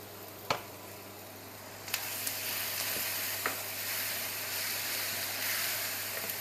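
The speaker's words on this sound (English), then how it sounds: "there we have the onions completely caramelized" Onions caramelizing in a pan sizzle continuously up close, with occasional clicks and light stirring scrapes. No one speaks.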